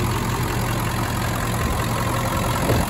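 A Ford 7.3 Powerstroke diesel engine idles in a rollback or service truck, giving a steady, rough low rumble with a constant clattering texture close by.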